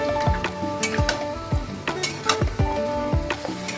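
Marinated chicken in yogurt, ginger, onion, garlic, green chili and mustard oil sizzles in a hot pan while a spoon scrapes and clinks against the metal in repeated, rhythmic strokes.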